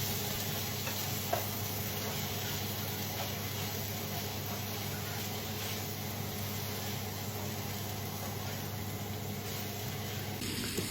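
Pork intestine sautéing in a pan gives a continuous loud sizzle with faint ticks and stirring scrapes, steady throughout with no voices.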